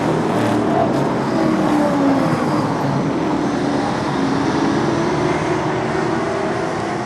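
Race cars lapping the Monadnock super short track, a continuous loud roar of engines whose pitch sweeps and shifts as the cars pass, with no talk.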